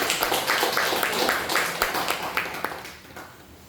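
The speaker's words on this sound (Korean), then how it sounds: "여러분 뜨거운 박수로 환영해 주시기 바랍니다" A church congregation applauds to welcome a pastor back from overseas mission work, a steady wash of many hands clapping at moderate loudness that gradually thins and fades toward the end.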